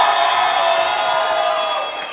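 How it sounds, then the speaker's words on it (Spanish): A live comedy show audience applauds and cheers loudly and continuously, the roar fading slightly at the end. "¡Aplausos por Miguel!"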